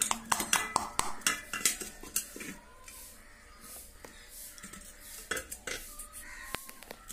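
A metal puttu tube is tapped against another vessel to release the steamed puttu, making a run of sharp metallic knocks and clatter up close that thins into scattered clinks.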